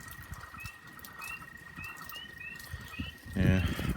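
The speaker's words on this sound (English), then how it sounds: "There's a herd of frogs living in that." Frogs call from a rain puddle on a farm, a steady high trilling drone with repeated short chirps over it, moderately distant, before a voice briefly cuts in near the end.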